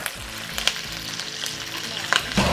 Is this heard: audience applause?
no